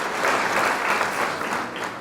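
An audience claps in sustained welcoming applause for a presenter introduced at a Korean online business meeting, a dense steady patter of many hands that stays close and loud throughout.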